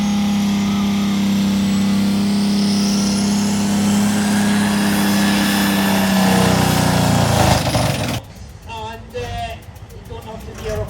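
A tractor-pull machine roars at full throttle with a strained engine and a possible failing gearbox, a loud sustained drone that grinds on and then cuts off abruptly, with a crowd and announcer faintly audible afterward.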